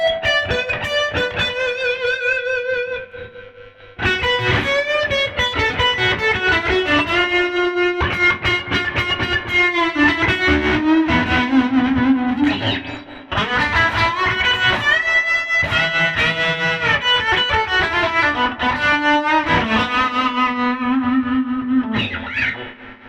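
A handwired 1964 custom Princeton Reverb amp with vibrato and reverb on, played at bedroom volume through a Duelist pedal, as an electric guitar plays bluesy phrases with overdriven, effect-laden tone, sustained notes and bends, and a short pause near the start.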